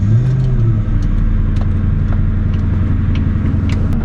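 A 1997 Mustang Cobra with a suspected transmission fault, heard from inside while cruising: a steady loud engine and road rumble throughout, with faint intermittent ticks and whines riding on top.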